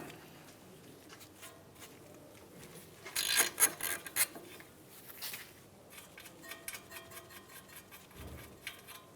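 An 18 mm castle nut being loosened on a Mazda CX-9 suspension knuckle, quiet metallic rasping and ratcheting in short bursts, a louder cluster of clicks midway, with sparse faint scrapes on either side.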